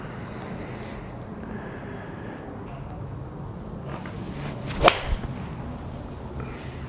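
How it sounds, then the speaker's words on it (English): A golf iron strikes a ball off a hitting mat during a Mizuno MP-20 MB versus Titleist 620 MB blade iron comparison, giving one sharp whip-like crack followed by a brief swish, heard alone over steady outdoor wind noise. "Fantastic feel and the sound off that club face."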